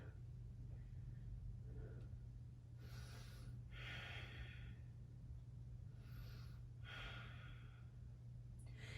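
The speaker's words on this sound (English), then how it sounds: "Maybe tap into my ujjayi breath." Slow, audible ujjayi breaths during a full-moon yoga class, two long airy inhale-exhale cycles rising and falling over a steady low hum, close to the microphone with no talking.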